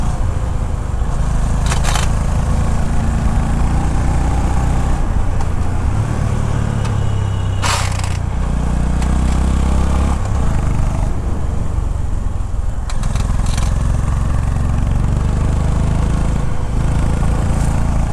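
Honda CB350 motorcycle engine droning steadily while riding, mixed with loud rushing wind across the whole stretch, with no talk.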